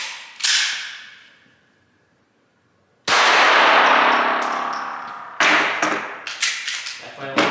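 A 45-grain solid copper round nose bullet is fired at dog body armor, giving sharp loud gunshot cracks with metallic clangs and ringing, one early report then a heavy blast followed by several rapid impacts.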